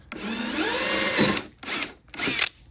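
A power drill with a dulled bit whines steadily for over a second, its pitch sliding as the bit bites, then two shorter bursts follow after brief pauses.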